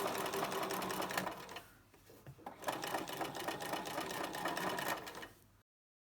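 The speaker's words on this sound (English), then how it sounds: "So now we're going to top stitch the facing down." A sewing machine top-stitches a dress facing in steady, fairly quiet runs of rapid stitching, pausing briefly partway through before running again.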